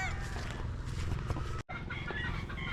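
Chickens and chicks in a barn cluck and chirp loudly and continuously, close by, with a brief dropout near the end.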